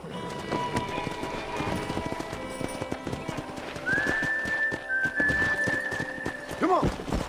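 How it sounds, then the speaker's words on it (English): Horses clip-clop at a trot with a whinny in the Western game Red Dead Redemption, hoofbeats steady throughout under background game sounds, with a voice speaking and a high whistle-like tone near the end. "let's see if we can't wrangle some horses."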